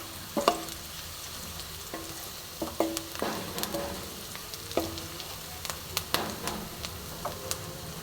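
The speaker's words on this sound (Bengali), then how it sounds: "দেখো পেঁয়াজটা একটু ভাজা হবে।" Onions fry in hot oil for panch phoron chicken, a soft continuous sizzle broken by irregular scraping clinks of a spoon stirring the pan, close and moderately quiet.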